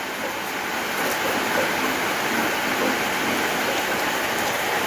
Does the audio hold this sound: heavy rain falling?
yes